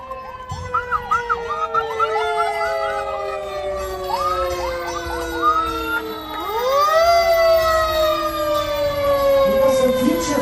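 A fire engine's siren wails during a St. Patrick's Day parade in downtown Fort Lauderdale, loud and close, its rising and falling tones sweeping repeatedly with brief chirping yelps at the start and a deep truck rumble underneath.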